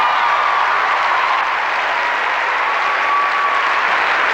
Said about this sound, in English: Great crowd response.